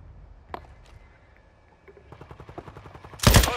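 A loud, close burst of gunfire in Call of Duty Warzone on the Al Mazrah map, arriving suddenly at the end after faint clicks and quieter game sounds.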